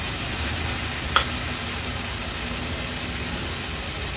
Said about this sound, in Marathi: कोलब्या थोड्याशा परतून घेते वाटणामध्ये